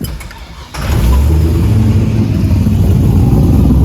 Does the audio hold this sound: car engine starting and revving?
yes